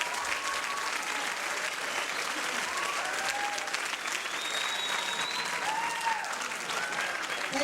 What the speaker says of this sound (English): Let's give Miss Maria Valdivia a big round of applause.